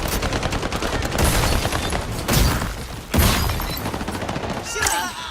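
Rapid gunfire crackles loudly and densely through a combat scene in a game, with heavy bursts near the middle and occasional voices underneath.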